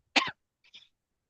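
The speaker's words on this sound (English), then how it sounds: "Sorry, I got a big cough." A single short cough, close and clear, followed by a fainter, softer second cough.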